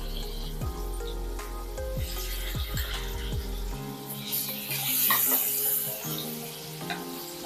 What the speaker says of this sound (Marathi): तर या पद्धतीने आता आपण पनीर फ्राय करून घेऊया।